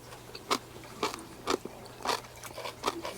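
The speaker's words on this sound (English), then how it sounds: "they're crunchy" Five or six sharp, wet crunches of someone biting and chewing crisp bread and butter pickles, close up and quiet, spaced about half a second apart.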